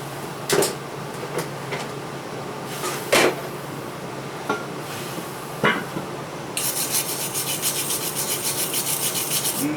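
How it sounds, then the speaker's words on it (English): A stainless steel wire brush scrapes and rubs against a welded intake, giving several sharp scratchy strokes at first. A denser, continuous bristly scrubbing follows, close and fairly loud. "I'm using a stainless steel brush too"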